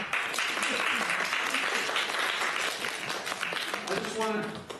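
An audience at a stage show applauds, a dense, sustained wash of clapping from many hands that fills the whole stretch, with voices and cheers mixed in and the sound tapering at the end.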